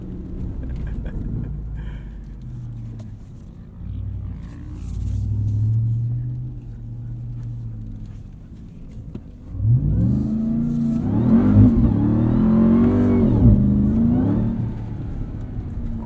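Ram 1500 TRX truck engine revs hard off-road on sand dunes, surging and falling in several bursts with a deep rumble that climbs into a louder, harder-pulling roar in the second half, heard from inside the cab without talking.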